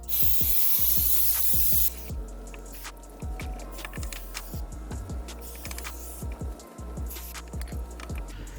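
Brake cleaner sprays in a loud hissing burst onto the rear brake rotor of a Toyota RAV4 for about two seconds, followed by quieter clicks and scraping handling noises in a garage.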